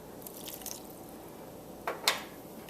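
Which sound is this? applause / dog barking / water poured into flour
water poured into flour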